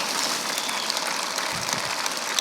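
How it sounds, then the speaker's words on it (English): A keynote audience claps in steady, broad applause, a dense even patter of many hands at moderate distance with no voices over it. "Now you can clap."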